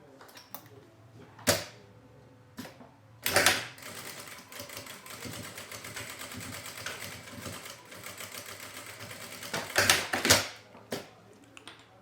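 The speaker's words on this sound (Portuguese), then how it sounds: "E agora aqui eu vou passar uma costura pelo lado da manta e eu vou passar uma costura de meio centímetro." Sewing machine stitching a half-centimetre seam along the side of a small shoulder bag, passing over a zipper; steady mechanical whirring runs through most of the clip, with sharper louder bursts at the start and near the end.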